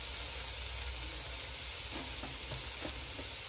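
Bell peppers sizzling in a hot pan as they are stirred into a cheesy chicken and vegetable dish, a steady frying hiss with a few soft scraping stir sounds, continuous and fairly close, no talking.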